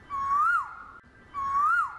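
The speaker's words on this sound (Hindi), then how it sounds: "कोयल की आवाज कहां से आ रही है?" An Asian koel calls twice, each a clear rising, whistle-like note about a second apart, fairly faint and alone against a quiet background.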